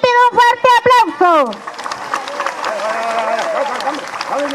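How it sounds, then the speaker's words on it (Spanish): Crowd applause at an FMLN commemoration of the 1989 offensive, breaking out after a loud voice and continuing as a steady, dense wash of clapping with some talk mixed in. "a nuestra compañera y candidata Karina Sosa, para quien pido un fuerte aplauso"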